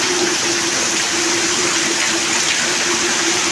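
Torrential downpour in a post office street in Maliya Hatina, with water rushing across a flooded road, a steady loud broadband wash of rain and flowing water throughout, no voices.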